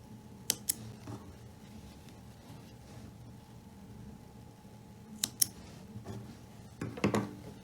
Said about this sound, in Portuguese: E cortar o fio bem rentinho.